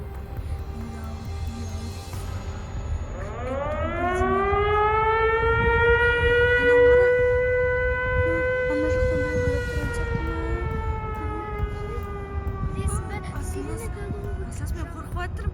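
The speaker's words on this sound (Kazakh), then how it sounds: "Мынау сол жаңағы сирена" A civil defense siren winds up and holds a long rising-and-falling wail over steady low rumble, loud and sustained, with voices underneath.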